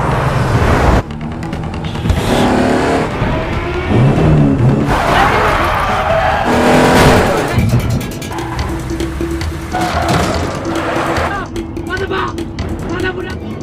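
A film car chase roars along with revving engines, tire noise and sudden impacts and booms, loud and dense throughout, with music and voices mixed in.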